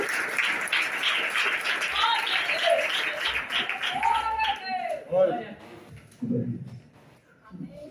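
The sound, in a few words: church congregation clapping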